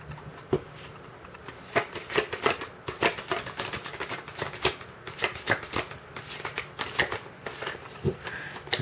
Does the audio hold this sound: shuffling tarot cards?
yes